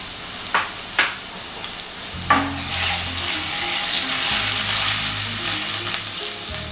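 Ginger paste frying in a gizzard and plantain sauce: a few sharp spoon taps, then a loud, steady, close sizzle with bubbling and stirring.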